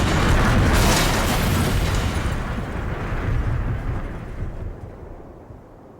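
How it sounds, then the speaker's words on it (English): A plane crashing into trees in the Rocky Mountains gives a loud, close, continuous roar of heavy banging and rumbling that slowly fades toward the end, with no voices. "We hit the trees. Big, horrible banging noises."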